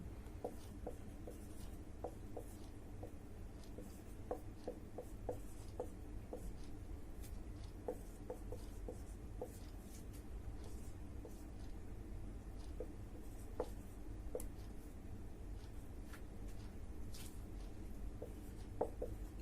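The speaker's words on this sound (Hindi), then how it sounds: "मैं जो है यहाँ पे ट्रिक लिख रहा हूं" A pen or chalk writes by hand on a board or paper, giving steady soft scratching with short tapping strokes throughout, close and fairly quiet, with no talking.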